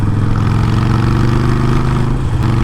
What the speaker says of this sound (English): This is just what a Harley should feel like. Loud, rumbly, aggressive.